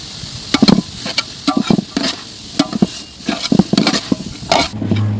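Chopped green chillies and tomato frying in a pan for village-style egg Maggi, a soft sizzle under repeated scraping and stirring strokes of a spatula against the pan in an irregular rhythm.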